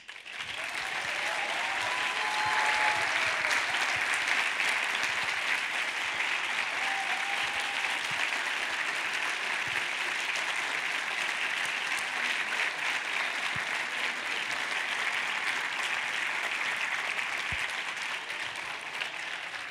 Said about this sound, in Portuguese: eu queria pedir a todos uma grande salva de palmas para eles